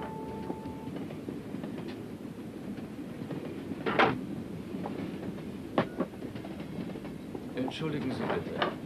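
A train runs on rails with a steady low rumble and occasional rhythmic clacks and knocks, heard under quiet talk in German.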